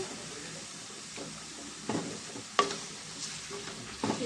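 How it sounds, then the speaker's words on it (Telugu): Chicken pieces fry in a pan with salt and turmeric, giving a soft, low sizzle broken by stirring scrapes and a few sharp clanks of the utensil against the pan. "బాగా ఫ్రై అవ్వాలండి మనం మూత పెట్టేసుకుందాం ఫ్రెండ్స్"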